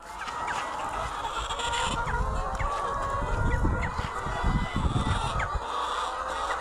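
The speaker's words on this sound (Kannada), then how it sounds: "ಇವತ್ತು ಹೋಗೋಣ ಒಂದು ನಾಟಿ ಕೋಳಿ ಫಾರಮ್ಗೆ" Native country chickens on a farm cluck and call steadily in a busy flock, with goose-like honks mixed in over a constant rumbling background.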